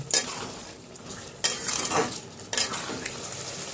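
Yogurt is stirred into a frying fish masala for bain fish. A close sizzle is punctuated by three distinct spatula scrapes and clanks against the pan, and no one speaks.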